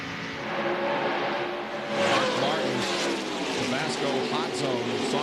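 NASCAR stock cars roaring at speed during the 1998 DieHard 500, a dense continuous engine drone with cars running side by side, under steady commentator talk.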